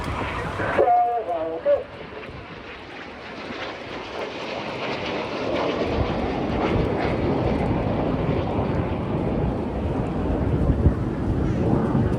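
Red Arrows display jets roll inverted and leave in the crossbow manoeuvre at an airshow on a sunny afternoon, a loud, sustained roar that swells and persists; a commentator's voice is heard at the start.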